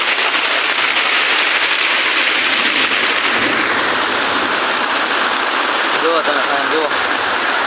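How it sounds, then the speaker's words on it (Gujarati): Heavy rain pours and water flows through a street outside a house in a steady, loud rushing wash, with someone talking over it. "ઓહો ફૂક્કા કાઢ નાખે એવો વરસાદ આવે છે ભાઈ."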